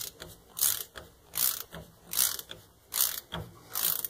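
Parking brake chamber being uncaged on an F700 dump truck with a Lucas Girling brake system: repeated ratcheting clicks in regular bursts, close and fairly loud, with no talking.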